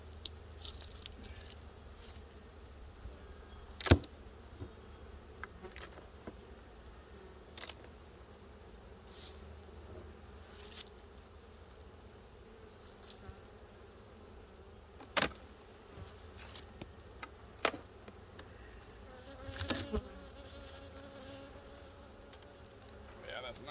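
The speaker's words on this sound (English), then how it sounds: "They got a lot of bees." A continuous low buzz of many honey bees around a hive hums steadily at close range while honey boxes are pulled, with scattered clicks and bumps of handling throughout.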